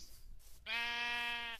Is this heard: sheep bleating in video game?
yes